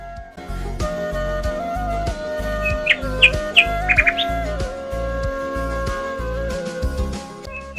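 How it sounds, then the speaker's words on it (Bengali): Morning birdsong heard from a resort balcony near Kolkata: several bright chirps and tweets ring out over a loud, rhythmic pulsing background of music or hum, with no voices. "সকালবেলা উঠে পাখিদের ডাক আর এরকম একটা এনভায়রনমেন্ট"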